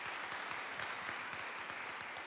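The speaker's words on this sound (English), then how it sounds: "let's give a round of applause again to all the people that volunteered to help" A workshop audience claps for volunteers, a dense, continuous patter of many hands heard faintly and at a distance, steady with no voices over it.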